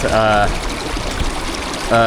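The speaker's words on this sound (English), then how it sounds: "So there is water flowing pretty good through this grate, and water coming out of here pretty well" Water flows steadily through the grate of a gold classifier, a continuous rushing and trickling wash, with a voice speaking briefly at the start and again at the end.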